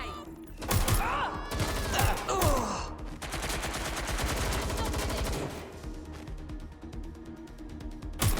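Gunfire in the video game Watch Dogs Legion: a sharp opening volley of echoing shots with pained voices, then a long dense burst of rapid automatic fire that tapers off, loud and close.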